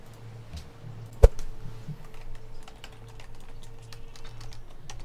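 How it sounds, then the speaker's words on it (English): Close-up clicking of computer keyboard keys during a Civilization 5 game, irregular quick taps with one sharper knock early on and a faint hum underneath. "Quit typing."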